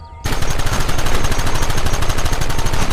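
Gunfire in the video game Red Dead Redemption erupts suddenly after a brief quiet, becoming a loud, rapid, continuous stream of close shots that holds without pause, with no talking.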